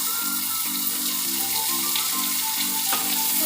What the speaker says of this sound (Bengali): একটু হালকা নাড়াচাড়া করবো সবজিগুলোকে।